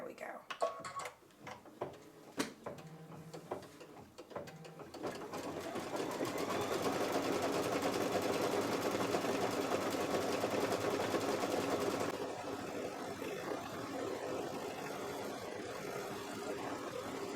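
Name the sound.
embroidery machine stitching an applique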